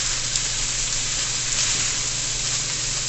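Chicken chow mein sizzles steadily in a hot pan on a home stove as a spatula stirs and combines the noodles, a loud, continuous frying hiss with no talking.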